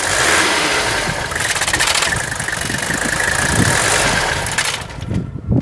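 A 1979 Mercedes 300SD turbo diesel with a failed vacuum pump idles loud and close with a steady knocking clatter, then the engine is shut off and the sound drops away to near silence at the end.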